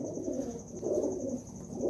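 Pet pigeons in a loft, under treatment for a sickness, give soft low cooing in repeated swelling pulses close by, with a steady high-pitched whine running underneath throughout.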